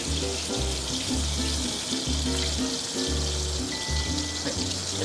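Chicken skin sizzles steadily in a pan over medium heat, a close, continuous crackling hiss with soft bubbling underneath and no talk.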